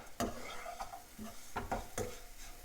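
Spoon scrapes and stirs squeezed banana flower into a pan for a traditional vazhaipoo paruppu usili, with a soft sizzle beneath several distinct clinks and scrapes spaced unevenly, close and fairly quiet.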